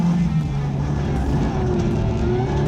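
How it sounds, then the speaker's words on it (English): Rally cars lapping the tarmac and dirt circuit of Aldo Scribante Raceway in an anti-clockwise direction, a steady loud engine drone with rising harmonic tones throughout, continuous and close. "the cars will be going in an anti-clockwise direction around Aldo Scribante Raceway"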